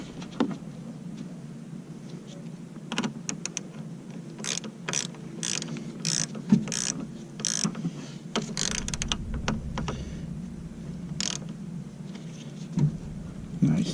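A ratchet tightening a car battery terminal clicks in irregular sharp bursts, near and crisp, with brief pauses between strokes and faint background noise.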